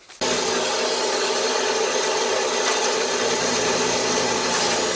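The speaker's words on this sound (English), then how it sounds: "We're making the last cuts on some of our square tubing here." A power tool cuts steel square tubing for a cultipacker frame, starting abruptly and holding a loud, steady, harsh grinding roar up close for the whole stretch.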